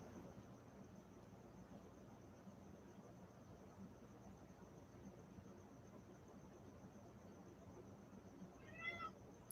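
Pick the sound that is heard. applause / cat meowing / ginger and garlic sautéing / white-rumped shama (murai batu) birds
cat meowing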